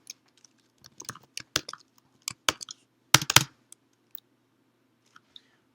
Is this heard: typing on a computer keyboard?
yes